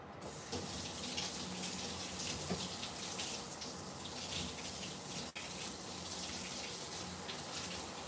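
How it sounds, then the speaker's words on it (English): Tap water runs steadily into a sink as sugar is rinsed off a water bottle lid, a continuous close rushing splash with no talking. "I have to wash the sugar off the lid if I'm going to keep using that water bottle"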